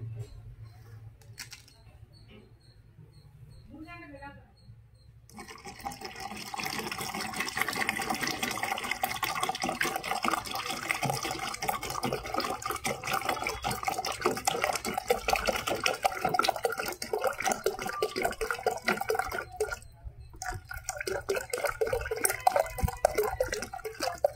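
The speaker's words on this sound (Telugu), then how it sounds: "ఇప్పుడు దీంట్లో వాటర్ పోసుకోవడమే." Water pours steadily into a container holding a blended garlic-and-curd organic plant spray mix, a close, continuous splashing stream starting after a few quiet seconds and running to the end with a brief pause.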